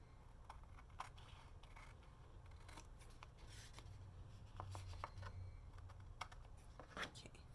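Scissors trimming the edges of card during card making, a string of quiet sharp snips close by, some coming in quick pairs, over a faint background hum.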